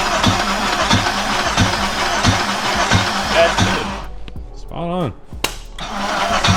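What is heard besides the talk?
K-series car engine cranking and starting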